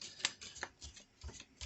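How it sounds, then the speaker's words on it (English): Playing cards being shuffled, a few quick riffled bursts and soft taps in short clusters, close and fairly quiet with no talk. "they want me to shuffle one more time."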